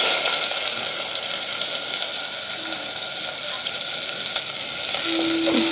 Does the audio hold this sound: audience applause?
no